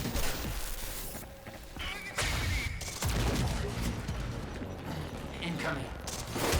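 Gunfire in the shooter Quantum Break: sharp bursts of shots and impacts crack at close range amid a dense, busy mix of game noise, with a player talking over it.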